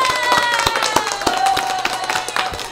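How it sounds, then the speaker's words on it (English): Handclaps ring out as a round of applause, sharp repeated slaps at an irregular pace over a tonal, ringing background. "Round of applause, ladies and gentlemen."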